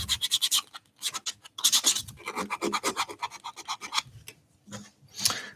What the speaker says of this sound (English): But give that a good old sand around